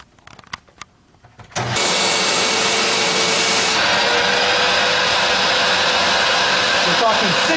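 A $300 Nybakke 80th Anniversary all-metal, American-made canister vacuum cleaner rated at 12 amps switches on after a second of quiet clatter, then roars at a steady, loud, even pitch to the end.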